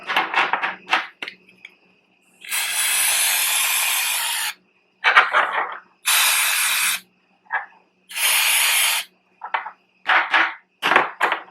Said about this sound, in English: WD-40.